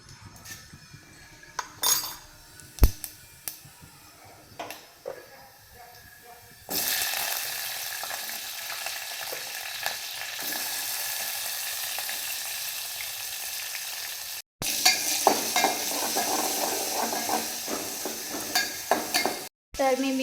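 Chili, tomato, cumin and mustard seeds fry in a hot pan, a quiet stretch of clinks giving way to a loud, steady sizzle with scraping stirs and utensil taps, pausing briefly before the sizzling resumes.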